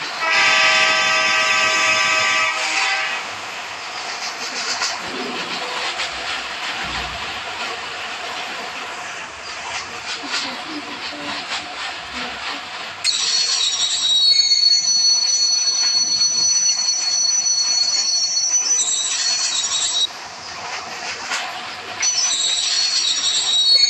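A train pulls into a station in the Indian Bike Driving video game. Rail clatter and wheel noise run steadily throughout, with high squealing bursts at the start and again near the end, loud and continuous with no talk.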